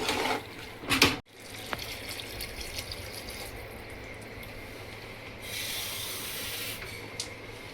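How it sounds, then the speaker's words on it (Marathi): Water poured into a pot of vegetable pulao, a steady close rushing flow after a brief clatter near the start, swelling louder toward the end, with no talk. "याच्यामध्ये 2 ग्लास पाणी टाकूया"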